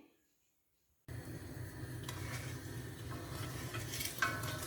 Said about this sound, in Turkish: Böyle karıştıracağım.